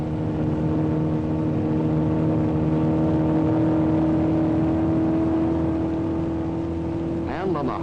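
Mustang race car with a 1.5-liter piston engine running on a road course, a sustained steady engine whine heard throughout, with a narrator speaking over it.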